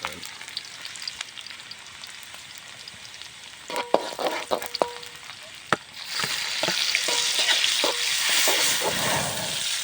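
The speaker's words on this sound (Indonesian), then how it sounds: "langsung proses penggorengan bumbu, baru kita goreng nasinya teman-teman." Spices and then rice fry in a pan at a forest campsite, first with scattered clinks and scrapes of stirring over a low sizzle, then a loud, steady sizzle and hiss that fills the rest.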